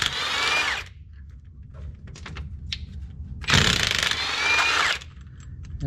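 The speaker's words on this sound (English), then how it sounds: "these Milwaukee Fuel half-inch drive impacts, electric impacts, are hard to beat" A Milwaukee Fuel half-inch drive electric impact wrench works on a semi truck carrier bearing, firing two loud, close bursts of hammering rattle about a second long each, separated by softer clicks and clanks.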